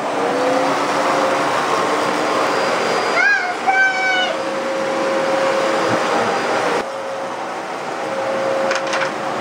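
A vacuum cleaner runs steadily indoors at a kids' pool party, a continuous whirring drone with children's voices and chatter over it.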